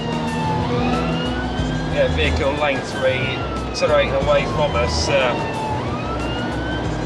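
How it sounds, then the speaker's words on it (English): A police car siren wails loudly at full blast during a high-speed pursuit of a motorbike on a dry road, its rising and falling tone sustained beneath engine and traffic noise while someone talks over it. "Even with the blue lights on and the siren at full blast"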